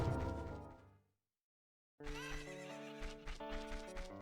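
A horse in the Zelda: Ocarina of Time video game whinnies, then after a brief silence game hoofbeats and a synthesized tune play, with clip-clop steps over music.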